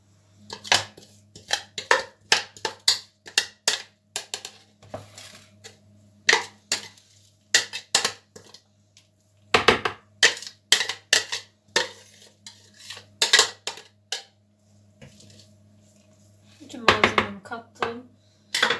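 A knife chops a garlic clove for homemade Adana kebab in bursts of quick, crisp taps against a board, close by and fairly loud, with pauses between runs and a faint low hum underneath.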